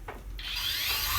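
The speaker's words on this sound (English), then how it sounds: "Nice, easy sanding." Close sanding on wood, a short scrape followed by a steady, continuous abrasive rubbing that holds for about a second.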